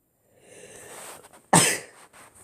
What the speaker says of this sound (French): Je fais que d'éternuer en ce moment.